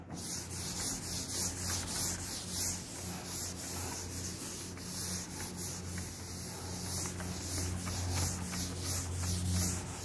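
Steady scrubbing rub of an eraser or duster wiping a lecture board, continuous rasping strokes close by and fairly loud for about ten seconds, no talk over it.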